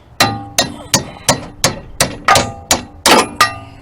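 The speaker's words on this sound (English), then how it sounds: "just grab a little hammer" A small hammer taps a metal rear suspension part on a 1990-1993 Honda Accord CB7 with ten sharp, ringing metallic blows at a steady, brisk rhythm, loud and close with no talking.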